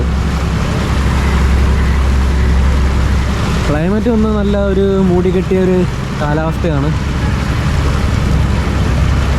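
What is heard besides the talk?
passenger boat ride in Alappuzha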